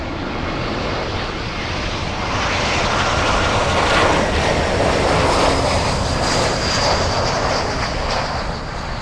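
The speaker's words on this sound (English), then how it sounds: "Atlas 747, it's heading to the south side." An Atlas Air Boeing 747 quad-jet roars past at Miami International Airport, a loud sustained engine rumble and whine that swells and holds steady, with no talking.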